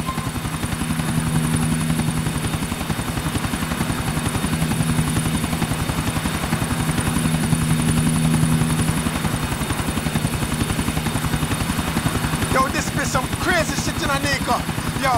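In the video game Grand Theft Auto IV, a helicopter's rotor drone throbs loud and steady from start to finish, with a few brief higher sounds near the end.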